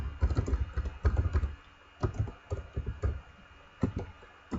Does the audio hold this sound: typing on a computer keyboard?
yes